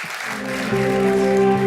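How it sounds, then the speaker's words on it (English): An audience at a tech conference talk in Las Vegas applauds, a steady wash of clapping mixed with sustained tonal music that grows louder throughout. "Let's give a round of applause for"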